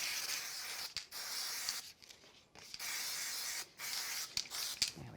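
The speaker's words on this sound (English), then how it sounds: "give this a quick spray with some spray adhesive" Spray adhesive hissing from an aerosol can onto a milk-carton card backing piece in a crafting session, several sustained bursts separated by short pauses, close and steady.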